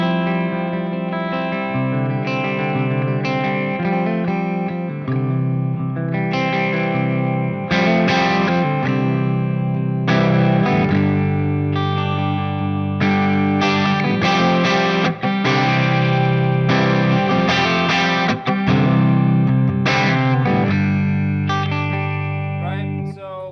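An electric guitar plays through a Fractal Axe-Fx III with delay and reverb added. Sustained distorted chords and melodic lines ring out loud and close, trailing echoes and washy tails, with no talking over the playing.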